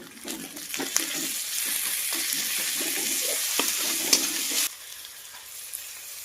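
Garlic paste added to browned onions in a pan for a chicken ghugni, a loud continuous sizzle with scraping stirs and clinks that cuts off abruptly near the end, leaving a faint hiss.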